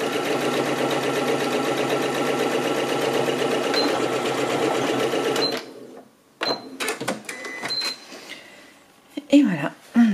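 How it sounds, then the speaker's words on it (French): A sewing machine stitches a fabric tube in a loud, steady run for several seconds, then stops; afterwards come scattered handling clicks and a speaking voice. "on a cousu notre tube"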